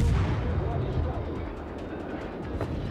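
Heavy, dense bursts of video game gunfire with booming low-end rumble, continuous and loud, with a voice faintly talking underneath.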